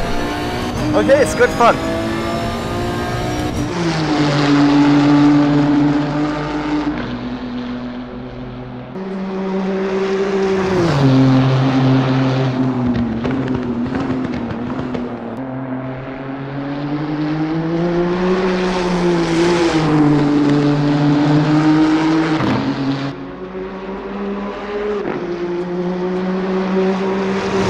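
A race car in the video game Assetto Corsa Competizione launches from a standstill, its engine note climbing and dropping through several upshifts, loud and sustained, while someone talks over it.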